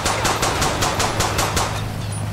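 Rapid bursts of gunfire in the video game GTA 5 during a police patrol, about nine sharp shots in quick succession like an automatic weapon, loud and close with no speech.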